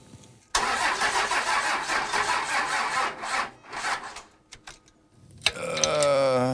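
The diesel engine of an old ramp truck cranks over slowly and laboriously in a close, rhythmic churning for several seconds, then falters into uneven bursts before a rougher, tonal mechanical run.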